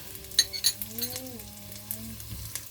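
Kinhason seashells and bell pepper frying in a pan as they are stirred, with soft sizzling and a few sharp clinks of utensil against the pan, while a low voice hums faintly beneath.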